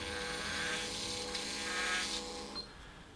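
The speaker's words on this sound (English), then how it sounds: "for soft bone, my drilling sequence is now already finished. I used only 1 taper drill." A surgical taper drill boring into soft bone during a dental implant procedure, a steady high-pitched whirring whine that runs continuously and close, easing off toward the end.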